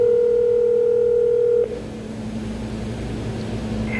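A telephone dial tone played over a speakerphone: a loud steady tone that cuts off abruptly partway through, followed by a hissy line hum.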